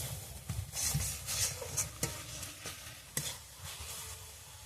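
Spice paste with red chilli powder for a mango-paste chicken curry is stirred and fried in oil, giving a busy sizzle broken by repeated scraping strokes of a spatula against the pan.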